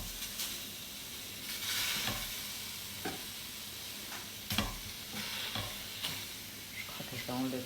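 Bananas fry in a pan with a quiet, continuous sizzle, broken by the sharp clicks and scrapes of stirring or arranging the pieces.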